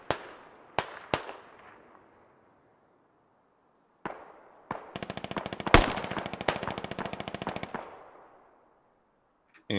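Gunfire during the Coiled Cobra operation, with a few sharp single shots and ringing echoes, then a long rapid automatic burst that fades into reverberation.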